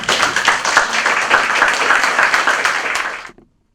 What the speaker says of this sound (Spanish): felicitaciones y un aplauso nuevamente